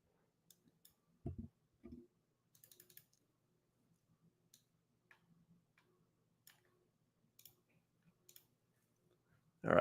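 Quiet, sparse typing on a computer keyboard, a few isolated key clicks and short bursts of taps separated by pauses, close but soft.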